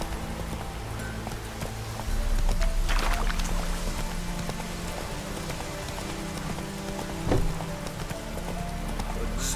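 Horse hooves galloping in The Witcher 3, a continuous rapid thudding beat mixed with ambient game noise and rain-like hiss throughout.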